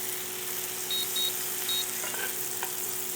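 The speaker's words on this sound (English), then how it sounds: "I'm going to use a metal utensil because it's supposed to be safe." A Ninja Foodi NeverStick nonstick pan sizzles steadily with butter, with a steady hum underneath, a few faint electronic beeps and a couple of light taps from a metal utensil near the end.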